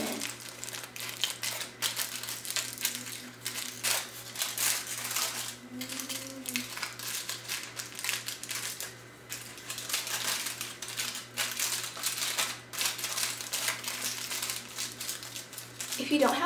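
Thin aluminium foil crinkling and crackling in repeated bursts while being folded around dyed hair, fairly close and moderately loud, with a steady low hum underneath.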